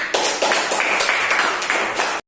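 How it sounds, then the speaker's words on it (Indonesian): Classroom applause from a group of students, a steady run of close, loud overlapping claps lasting about two seconds and then cutting off abruptly. "tepuk tangan buat kita semua"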